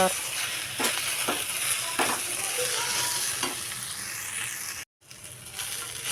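Okra fries in oil in a home kitchen pan, giving a steady, close sizzle with scattered scraping stirs and a brief drop to silence near the end before the frying resumes.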